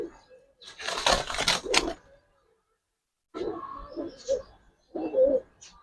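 Giribaz pigeons cooing close by in short soft bursts separated by pauses, with a louder rustling burst near the start.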